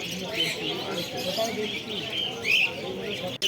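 Small birds, including cockatiels, chirp and call at the Garia bird market, with bright scattered tweets over a busy background of market chatter.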